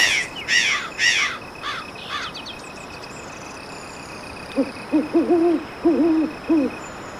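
A crow-style locator call in a turkey hunting video game gives several loud, harsh caws in quick succession, followed by a softer run of lower hooting bird calls over a steady outdoor background.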